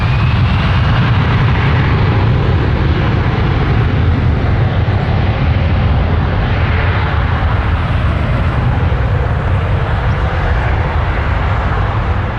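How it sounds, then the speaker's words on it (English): An American Eagle Embraer E175 regional jet takes off at Toronto Pearson, a loud, steady roar of jet engines that holds for the whole stretch with no talk over it. "American Eagle 4510 to JFK on an Embraer E175. Just got takeoff clearance."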